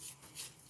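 A rag rubs black stove polish over the metal of a wood cook stove in soft, repeated scrubbing strokes, close and fairly quiet, with no talking.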